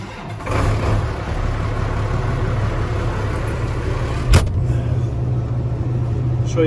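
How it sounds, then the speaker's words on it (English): A TG210 tractor engine runs steadily with a low rumbling drone, holding an even idle throughout with one brief sharp knock partway through. "I'll see if I can start up the tractor and show you"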